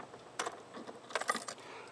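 Keys jangle in short metallic bursts while the steering is locked on a 2012 Suzuki Burgman 650 Executive scooter. There are a few separate clinks, close and fairly quiet.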